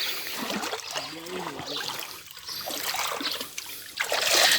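Spring water wells up from the ground at a desert spring site in Saudi Arabia, a soft continuous trickle and gurgle heard close, with faint voices and background noise around it.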